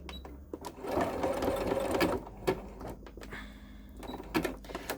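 A sewing machine stitches a hexagon placemat in quick bursts of rapid mechanical whirring with brief pauses between them, fairly faint and close.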